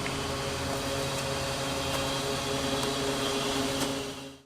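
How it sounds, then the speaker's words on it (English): A propane tank being filled at a filling station gives off a steady mechanical hum with a constant hiss, even and unbroken for several seconds before cutting off abruptly at the end, with no one speaking. "Filling up our propane."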